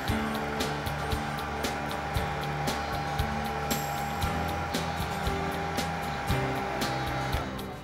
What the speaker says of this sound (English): I'm going to dry this again with the dryer.